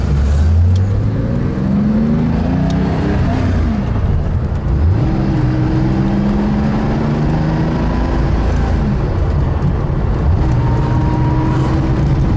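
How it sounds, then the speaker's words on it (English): A classic Porsche 2.7 RS being driven, its engine loud and close with rising and falling revs through gear changes, a continuous throaty drone with brief shifts between pulls. "It's the beautiful sound of an older car."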